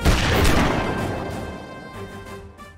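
Loud, close gunfire in a dramatic action scene: a heavy booming blast that rolls off over a few seconds, followed by fainter repeated reports.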